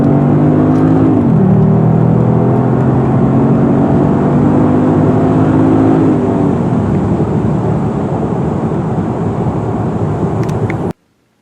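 The turbo V6 engine of a 2018 Genesis G80 Sport revs loud and close, its pitch rising then holding as it pulls hard, ending in a sudden cutoff.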